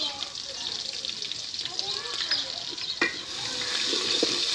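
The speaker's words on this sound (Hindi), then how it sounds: "लहसुन अदरक जैसे ही थोड़ा सा इसमें भून जाएगा" Garlic and ginger fry with browned onions in a pan for a desi tadka, giving a steady bright sizzle and hiss with a few soft stirring scrapes, rising slightly toward the end.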